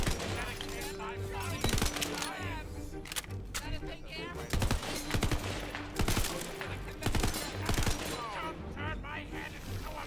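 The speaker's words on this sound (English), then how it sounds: "Stop shooting at me." Rapid bursts of gunfire from Tiny Tina's Wonderlands gameplay, repeated volleys and automatic fire clustered in loud clumps across the span, with game effects and some voice activity mixed in.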